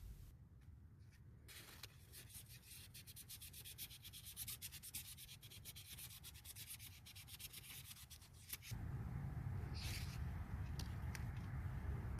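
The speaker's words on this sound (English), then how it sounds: "use some of the sandpaper to start smoothing the bearing surfaces" Sandpaper rubs steadily against the bearing surfaces of a lawnmower connecting rod in quick repeated scratchy strokes, faint and close, followed by a louder low rumble near the end.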